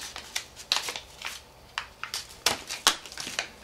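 Scissors snipping through several layers of folded paper while making a gingerbread house accordion book, a run of sharp, close cuts in irregular rhythm, fairly quiet with no voices.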